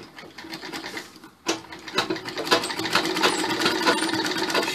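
Sewing machine stitching pleats on a blouse, a steady close mechanical whir that starts softly and then runs continuously and louder after a brief pause.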